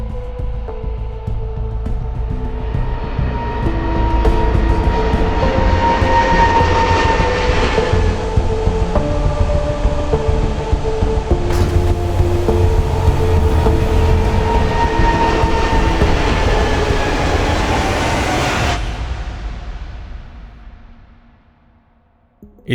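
An airplane takes off with a loud, sustained engine roar that builds, holds with rising whining tones, then fades away into the distance toward quiet.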